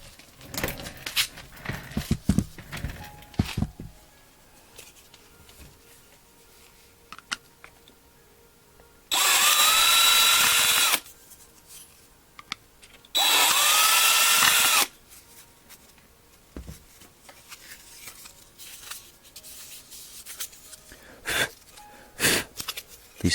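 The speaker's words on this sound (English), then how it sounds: "So what I do is I'll drill out these posts" A power drill drills out posts on a 1/64 scale diecast NASCAR model car in two loud whining bursts of about two seconds each, separated by quiet handling clicks and small taps.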